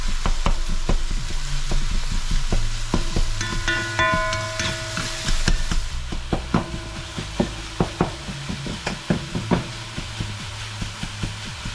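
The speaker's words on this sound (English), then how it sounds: "So we let this cook a little more and get all that liquid dried out of there." Egg roll filling sizzles and fries steadily in a pan, with repeated sharp scrapes and taps of a utensil breaking it up and stirring, close and fairly loud throughout.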